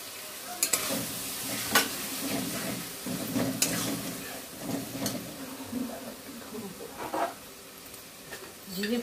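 Spices with red chili fry and sizzle in a pan for a Bengali dish, a steady soft crackle broken by sharp spits and stirring scrapes, with a voice talking at times.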